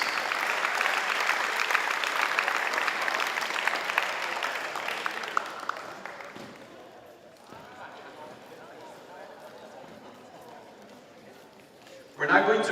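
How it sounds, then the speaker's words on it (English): Audience applause at a boys' soccer tournament closing ceremony, a loud sustained round of clapping and cheering that fades out over several seconds, then quiet until a brief burst at the end. "Let's have a round of applause for all of you, our APAC Boys Soccer Super Tournament student athletes."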